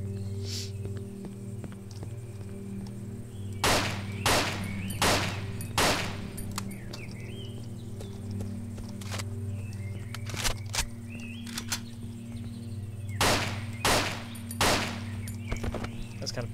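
Gunfire from a handgun in the horror game Cry of Fear, sharp loud shots fired in two separate bursts of three or four, ringing over a low droning hum with brief quiet gaps and shuffling steps between.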